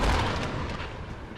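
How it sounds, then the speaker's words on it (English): A bomb explodes in Idlib, Syria, with a single heavy low boom at the start that rolls off into a long, fading rumble. "The bombs have been falling relentlessly."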